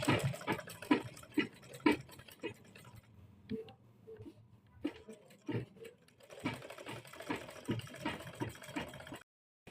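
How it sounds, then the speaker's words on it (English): A sewing machine stitches an invisible zip with a back stitch, running in bursts of rapid mechanical ticking that stop briefly mid-way and then resume, moderately loud and close, with a voice speaking over parts of it. "So now I'll go ahead to sew. Of course, you have to always back stitch."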